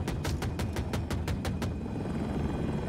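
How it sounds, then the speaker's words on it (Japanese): A Little Bird helicopter in the Battlefield 2042 video game passes with a quick, rhythmic rotor chop that thuds about ten times, then smooths into a steady, moderate engine drone. "ヘリ一機来てね、あれ、リトルバード"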